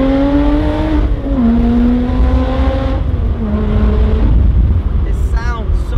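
Alfa Romeo 4C Spider sports car engine droning loudly under acceleration, pitch rising and dropping with gear changes, with someone talking over it.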